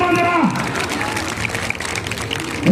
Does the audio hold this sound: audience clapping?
yes